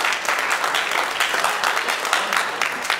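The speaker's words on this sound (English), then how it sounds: "let me hear you clap your hands" Church congregation clapping hands together during a sermon, a dense, steady wash of many hands, loud and fairly close, with no break across the few seconds.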